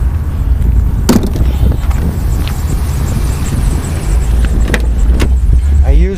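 Loud, deep bass thumping from a 10-inch Polk Audio car subwoofer in the back of a truck, a constant low rumble with a few sharp clicks and faint chatter in the background.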